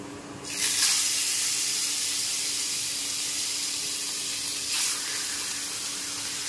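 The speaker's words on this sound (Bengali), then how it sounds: "দেখুন বন্ধুরা, তেলটা গরম হয়ে গেছে। এরপর আমি মাছগুলো ছেড়ে দিই।" Rui fish frying in hot oil in a pan, a steady broad sizzling hiss that swells when the pieces go in and keeps going evenly, close and fairly loud, with no talk.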